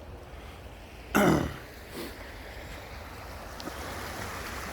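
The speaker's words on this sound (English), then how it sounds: "this is a little brook, Bobbling Brook" A small babbling brook gives a soft, steady rush of flowing water in the background, faint and constant, broken once by a brief close throat-clearing sound.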